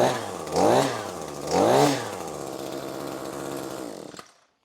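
A small two-stroke ECHO SRM-26 string trimmer engine runs loudly after its spark arrestor screen was cleaned, revving up twice before settling into a steady buzzing idle and cutting off abruptly.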